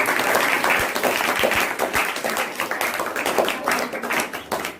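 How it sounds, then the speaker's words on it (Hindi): Audience applause for two quiz contestants called to the hot seat at a school quiz game modelled on Kaun Banega Crorepati, a dense steady burst of clapping filling the whole stretch with scattered sharper individual claps. "तो जोरदार ताली के साथ में"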